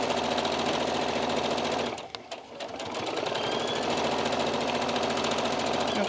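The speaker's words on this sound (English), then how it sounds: "You're going to be sewing over all these little folds and everything" A sewing machine runs stitching over the gathered folds of smocking fabric, a fast steady mechanical whir that dips briefly as the pace slows, then picks back up close and even.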